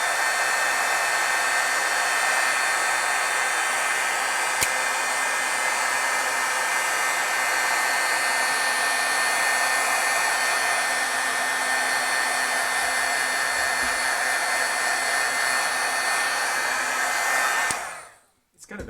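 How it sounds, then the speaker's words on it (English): A hair dryer blows continuously to dry stamped ink on paper, a loud steady whirring hiss that runs for the whole stretch before cutting off at the end. "If I dry it here and it looks like that could be a little bit darker"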